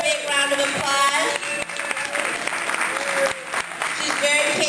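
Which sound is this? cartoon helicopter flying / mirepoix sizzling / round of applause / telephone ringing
round of applause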